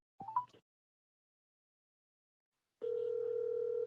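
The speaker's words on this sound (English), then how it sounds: "It's ringing now." A telephone ring tone on an outgoing call gives one steady electronic tone near the end, after a brief blip and a stretch of silence.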